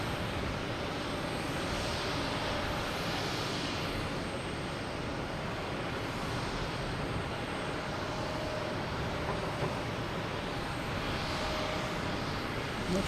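A Cape Air Tecnam P2012 propeller aircraft at Boston Logan Airport, a loud continuous droning engine roar with a broad, steady rush of noise throughout.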